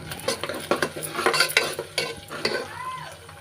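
Cinnamon, cloves and star anise deep-frying in hot oil for chicken biryani, with a steady close sizzle and repeated clattering scrapes of a spoon stirring against the pan.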